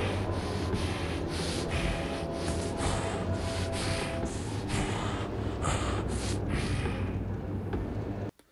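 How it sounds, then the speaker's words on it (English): Heavy, rasping breathing from a horror video game, pulsing in steady repeated breaths close up and filling the scene for several seconds before cutting off abruptly. "The breathing was scary for like 3 seconds."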